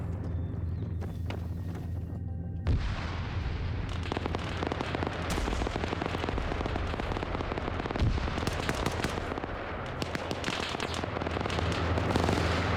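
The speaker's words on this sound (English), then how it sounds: "So I think AT is firing up at the tank right now, but they're taking him out with PKM." Rapid bursts of PKM machine gun fire, aimed at an anti-tank soldier in a military video game, crackle and pop almost continuously with scattered louder cracks throughout.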